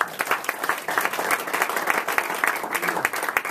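A crowd at a college football signing day event claps to thank a recruiting coach, dense and continuous applause at close range, holding steady for several seconds.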